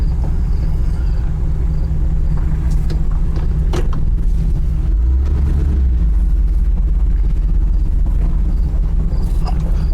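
A 1989 GMC Sierra 3500 truck engine idles loudly and steadily up close, a deep continuous rumble with a few light knocks and rattles over it and no talking.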